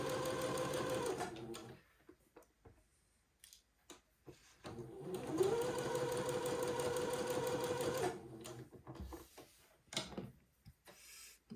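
A sewing machine runs in two steady bursts, stitching a narrow 1/8-inch seam for a smock collar, with a quiet pause between runs and small clicks and handling noises after it stops.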